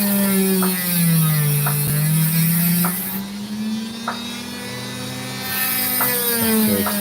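A piece of opal with sand still on it is cut by a powered saw, which gives a steady, loud, humming whine that holds throughout and shifts slightly in pitch, with faint repeated ticks riding over it.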